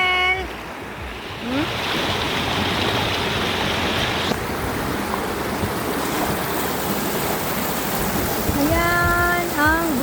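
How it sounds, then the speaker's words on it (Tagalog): A strong current of river water rushing at a crossing in the Philippine countryside, a loud continuous roar and splash, with voices talking briefly near the start and end. "Kusog ang agos ng tubig."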